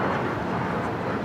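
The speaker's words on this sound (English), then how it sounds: "We do have a United Dreamliner, Flight 801 heading to Hong Kong, the 787-9 Dreamliner heading for a south side takeoff." A United Boeing 787-9 Dreamliner on Flight 801 to Hong Kong, leaving from the south side at Los Angeles airport, makes a broad steady jet roar that fills the short stretch.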